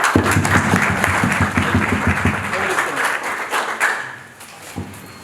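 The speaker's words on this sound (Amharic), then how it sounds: "ለሁላችሁም አንድ ጊዜ ጭብጨባ" An audience claps at a school event in Ethiopia, a dense burst of applause that is loudest at first and then thins and fades toward the end.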